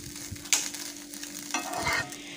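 Chicken boiled with salt, now stirred with ginger garlic paste in a pan, gives a few soft scraping stirs over a light sizzle, close and fairly quiet, with no talking.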